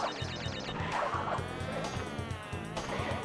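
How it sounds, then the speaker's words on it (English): Insect-like buzzing of bees in the platform video game Crash Bandicoot 2, a steady droning hum running through the clip over rhythmic game music. "the bees will chase you"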